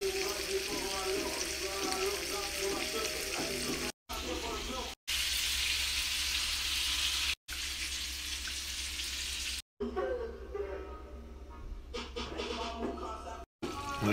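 Beef and smoked sausage fry in a pot with a loud, steady sizzle that continues through several cuts. A voice talks at times over the frying.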